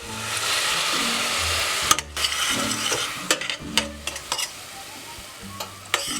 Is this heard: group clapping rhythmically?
no